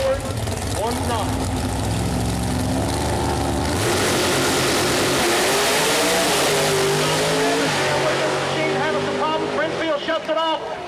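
Nitrous Pro Mod drag racing car engine at Mooresville Dragway, loud and continuous, with pitch sweeping up and down through revs, under a track announcer's voice.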